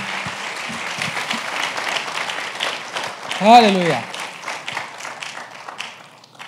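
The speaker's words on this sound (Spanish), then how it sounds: "¿Le das un aplauso al Señor por eso?" A church congregation breaks into sustained applause, dense clapping that swells and then fades, while a voice calls out over it partway through.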